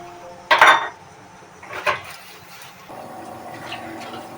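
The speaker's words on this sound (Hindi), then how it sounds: "अब मैं इधर तब तक बर्तन धो लेती हूँ" Metal pots and utensils clatter and clank in a home kitchen as dishes are washed, with two sharp bursts of banging followed by softer scraping and a low background hum.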